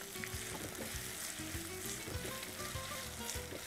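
Ginger and onions sauté in a hot pan, giving a dense, steady sizzle with soft intermittent stirring thumps underneath, continuous and close, with no voices.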